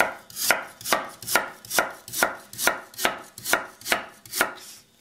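A knife chops through peppers and aubergine on a board, about eleven crisp, evenly spaced strokes, close and clear with no talking.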